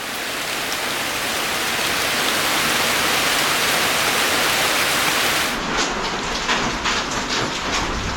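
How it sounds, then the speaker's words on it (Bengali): Steady rain heard from beside a window near fields, a dense continuous wash that stays loud and close throughout, with some drips and patter standing out toward the end. "এই জানলা থেকে বৃষ্টির শব্দ খুব ভালো লাগে"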